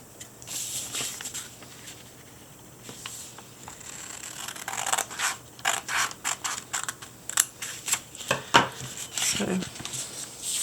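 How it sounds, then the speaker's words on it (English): Scissors snip through folded paper in a repeated run of short crisp cuts, close and fairly clear, while a person speaks quietly in the background. "I'm taking my scissors, and I'm going to cut from here to here"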